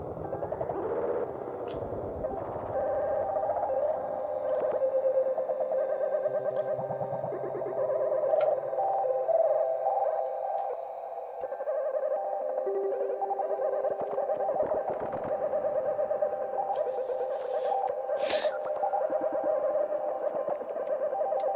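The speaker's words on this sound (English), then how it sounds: "This is the grain shifter." A Korg NTS-3 Kaoss Pad's grain shifter effect produces a sustained, warbling granular tone with stuttering, echoing textures and occasional sharp glitchy bursts, playing alone at moderate level for about twenty seconds.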